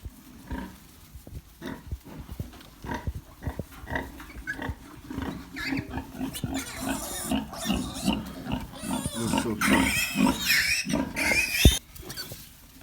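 A sow grunts and snorts repeatedly up close during a night farrowing, irregular snuffling bursts growing busier toward the end, with no talking.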